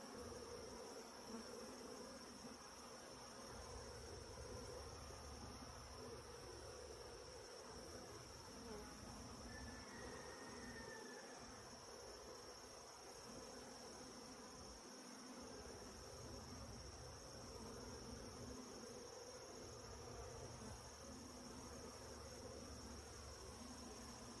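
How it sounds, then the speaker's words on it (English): Honey bees in a hive, with a clustered ball of bees, make a steady dense insect hum that continues without break throughout, close and even in level, with no talk over it. "Pretty good ball of bees down here."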